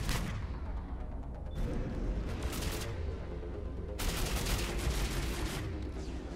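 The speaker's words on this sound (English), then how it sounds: "That's a turret. That's bad news." Turret firing in the video game Mass Effect 3 on Tuchanka, dense rapid bursts of heavy automatic fire with booming low rumble, continuous loud barrage with brief shifts in intensity.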